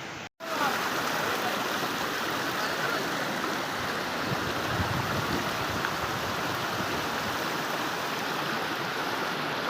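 A river flows steadily past a bathing spot on the Junagadh parikrama route in rural Gujarat, a continuous near rushing wash that stays loud and unbroken after a short gap at the start.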